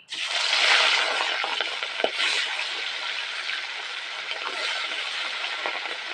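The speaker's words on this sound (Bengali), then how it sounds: "এবার মাছগুলো ভেজে নেবো।" Rohu fish pieces sizzle in hot oil in a wok: a loud, steady frying hiss runs throughout, with scattered crackles and one sharp pop near the middle.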